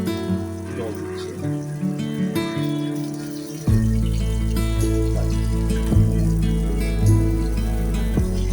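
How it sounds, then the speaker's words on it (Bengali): Water is poured into a cooking pot, a steady rushing pour that starts partway through and continues beneath sustained musical tones. "তো আমি এখন জল দিচ্ছি পরিমাণ মতো"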